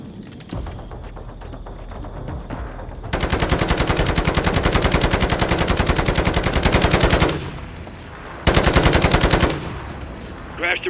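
Rapid automatic gunfire from Call of Duty, sustained bursts lasting several seconds and then a shorter burst after a pause, loud and close over a steady rumble of battle noise.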